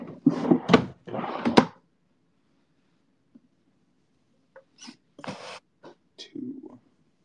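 Phone shut inside a drawer: a few short knocks and muffled sliding thuds, with faint muffled voices and bumps after a mostly quiet stretch.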